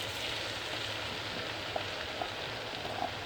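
Tomatoes and cut bread frying in a pan for bread upma, a steady close sizzle with small pops and crackles, no talking.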